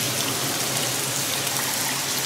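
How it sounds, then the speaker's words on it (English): A small waterfall trickles down inside the Norwalk Tunnel, a steady, close wash of falling and splashing water that holds evenly throughout with no voices. "here's a spot where there's actually a little waterfall coming down"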